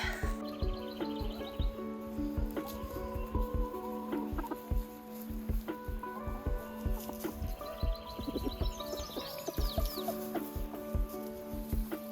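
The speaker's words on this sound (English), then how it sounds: "rooster is feisty this morning" A rooster crows repeatedly amid a busy farmyard, with hens clucking and small birds chirping throughout, close and lively.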